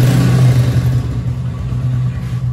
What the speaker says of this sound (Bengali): বাইকের সাউন্ডে এখনো কোনো চেঞ্জেস আসে নাই